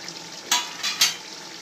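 Chicken and tomatoes stirred in a pot for chicken biryani: a few brief scraping strokes over a soft, steady sizzle, close and moderately loud, with no talking.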